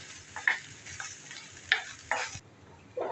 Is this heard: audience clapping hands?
no